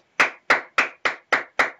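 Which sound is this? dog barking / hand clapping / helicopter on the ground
hand clapping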